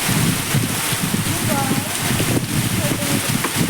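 Heavy rain with strong wind pours down on a farm near Salem, a dense steady roar with gusty rumble underneath, while people talk over it.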